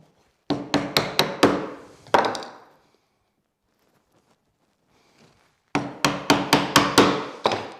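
A hammer strikes a chisel to cut a shoulder in pine: two quick bursts of five or six sharp, close knocks each, separated by a few seconds of near silence.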